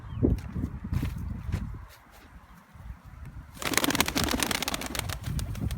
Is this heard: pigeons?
yes